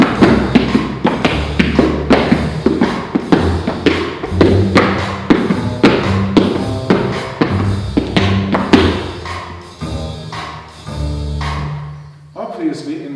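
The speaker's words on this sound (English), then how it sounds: "But now the tap dancing would sound like this." Tap dancing shoes beat out a swing eighth-note rhythm, with sharp, close taps and heavier thuds falling in a steady lilting pattern over a low accompaniment, thinning out toward the end.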